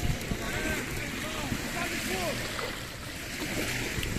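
Sea waves at a beach, a continuous washing surf and wind noise with a broad steady wash, while people talk over it in the foreground.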